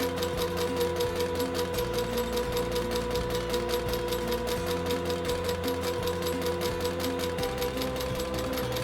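Walking foot sewing machine stitching a 1-inch crossbody strap, a close, loud, steady rapid hammering of the needle with a continuous motor hum that runs unbroken throughout, with no voices.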